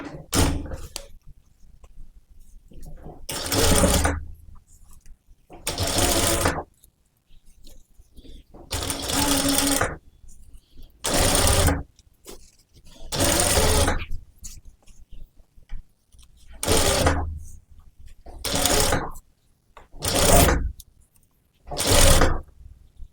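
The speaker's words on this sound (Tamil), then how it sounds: "அந்த அளவுக்கு வச்சு தையல் போட்டுருங்க" A sewing machine stitches a blouse seam in repeated bursts of steady mechanical whirring, each a few seconds long, separated by short pauses. The sound is close and loud.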